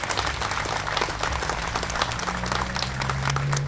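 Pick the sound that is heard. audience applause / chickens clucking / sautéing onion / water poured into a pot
audience applause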